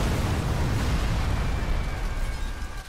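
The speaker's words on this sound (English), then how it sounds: "That explosion." A loud, rumbling blast from the Dragon Ball Z Kakarot video game, a sustained low roar of an explosion filling the whole clip with no voices over it.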